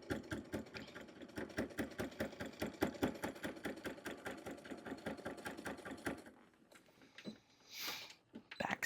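Sewing machine stitching a bag, a fast regular mechanical rattle of needle strokes for about six seconds, then stopping, followed by a few faint handling noises and a soft swish.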